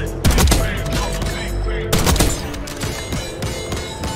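Rapid video-game gunfire from Black Ops 6 rattles in loud, close bursts, with a heavy shot near the start and another volley midway, followed by sharper trailing cracks.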